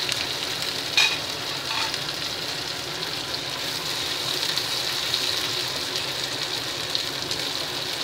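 Chili and curry leaves frying together in a pan of hot oil for a Tamil-style kodo millet sambar rice, giving a steady close crackling sizzle throughout, with a brief utensil scrape near the start.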